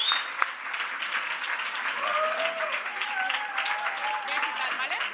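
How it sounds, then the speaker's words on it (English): Enthusiastic audience applause after a tech demo at the dreamOlé '18 demoJam, steady dense clapping with some excited vocal cheering and voices rising over it. "Round of applause for Batwoman."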